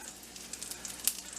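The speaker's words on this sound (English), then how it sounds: "that onion's starting to sizzle. All I've got in here is bacon grease" Onion frying in bacon grease in a pan while cooking deer heart, a soft steady sizzle with faint crackles and one sharper pop, close and alone.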